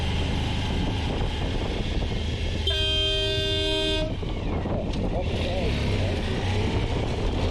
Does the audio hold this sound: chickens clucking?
no